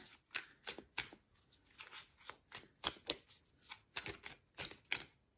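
Cards drawn and shuffled during an oracle card reading: a quick run of crisp, papery flicks and riffles in uneven bursts, close and fairly quiet, with no talking.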